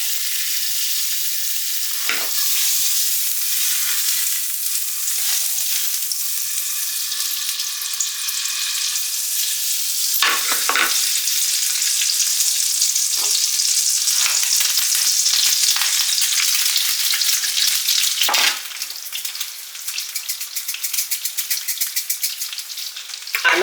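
A whole small piece of butter sizzles in a frying pan before eggs go in, a loud, continuous crackling hiss with occasional sharper pops, heard up close without speech.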